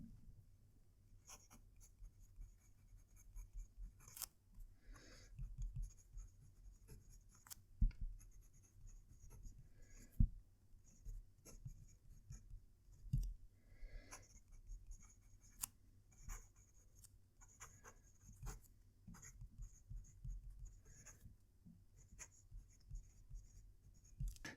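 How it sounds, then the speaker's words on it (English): A Jinhao 9056 fountain pen scratches across paper close up, faint irregular strokes and taps in short bursts with pauses between words, quiet and dry with no talking. "move the microphone close to the paper so you can hear the pen write"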